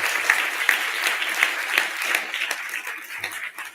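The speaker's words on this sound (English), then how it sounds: "Let's have another round of applause." An audience at a Kid Governor inauguration event claps continuously in a dense, even round of applause that slowly thins toward the end, with little talking.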